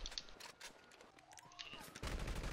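Gunfire in GTA Online, a quick burst of rapid shots followed by a denser volley near the end, sharp and fairly close but low in level.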